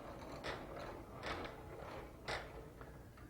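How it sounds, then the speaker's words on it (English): A lathe carriage on a router-equipped wood-turning setup for rope-twist pens is cranked back by hand, giving faint mechanical scraping and soft clicking sweeps in a few repeated strokes against a quiet hum. No voices. "Now we'll need to crank it back to our starting point."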